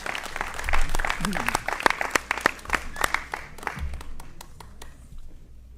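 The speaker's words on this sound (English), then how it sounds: "Join me in giving a hearty round of applause to the candidates for Ward 4" An audience at a city aldermen candidate forum in Ocean Springs claps for the Ward 4 candidates, a crowded burst of clapping that thins into scattered individual claps and fades out, with a voice speaking over it.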